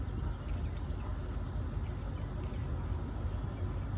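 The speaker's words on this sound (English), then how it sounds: "Pardon the noise in the background, and the wind is vehement right now." Strong wind outdoors buffets the microphone in a steady, heavy low rumble with a broad hiss on top, constant for the whole stretch with no talking.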